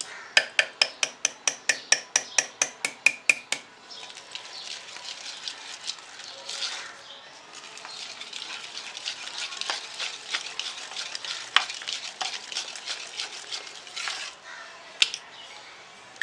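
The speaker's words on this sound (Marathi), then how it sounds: "थोडं थोडं टाकून व्यवस्थित मिक्स करून घ्यायचे" Cake batter being mixed with beetroot juice, opening with a quick run of regular whisk or spoon taps against the bowl, then continuous wet scraping and stirring close up.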